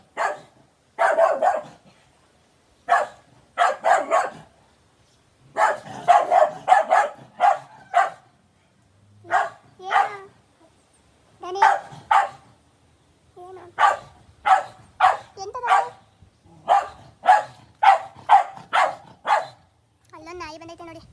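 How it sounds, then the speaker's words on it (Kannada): A brown dog barks in repeated short bursts and clusters close by, with pauses between the volleys and a few whimpering yips near the end. "ನಾಯಿ ಬಂದೈತೆ ನೋಡಿ, ಬ್ರೌನ್ ಕಲರ್."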